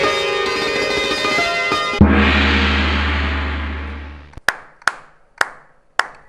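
Music swells and holds a sustained chord, then fades; a handful of sharp, isolated hand claps ring out near the end, celebrating an engagement announcement.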